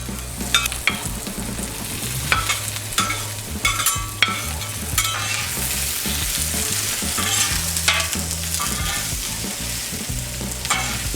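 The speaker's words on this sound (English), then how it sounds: "we're gonna go ahead and drop down our veggies, get these stir fried" Vegetables stir-fry on a 36-inch Blackstone griddle in a loud, steady sizzle, with frequent metal spatula scrapes and taps as they are tossed, and no talking.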